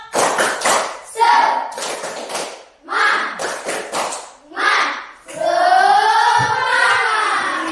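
A school class does a rhythmic spirit clap: bursts of patterned hand clapping and tapping, several groups of quick claps with short pauses between them, ending in a longer mix of claps and children's voices.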